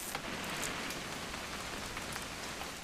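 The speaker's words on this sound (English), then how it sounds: "It's gonna rain the whole weekend, isn't it?" Steady rain falls in the video game What Remains of Edith Finch, a dense, even patter of drops striking surfaces that continues without a break or any voices.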